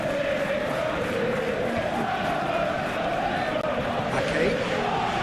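Stadium crowd in PES 2021 during a Liverpool versus Manchester City Premier League match, a dense continuous roar and cheer that stays loud and steady throughout.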